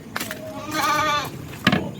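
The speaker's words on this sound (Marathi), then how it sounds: "हे आमच्या शेळ्या आहेत आत शेडमध्ये चाळीस शेळ्या आहेत" Goats bleat inside a shed that holds around forty animals, giving one long wavering call followed by a short sharp cry, close and fairly loud with no speech over it.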